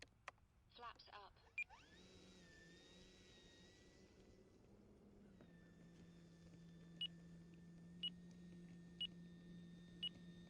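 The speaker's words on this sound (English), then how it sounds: "That's our timer going down at 8 minutes." A flight timer on a large E-Flite 2-meter Carbon Z T-28 Trojan RC plane gives four short, clear beeps a second apart over the steady electric whine of the plane in flight.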